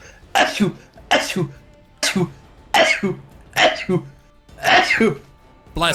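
A run of six or seven repeated sneezes, close and loud, coming in a steady rhythm with short pauses between each forceful burst.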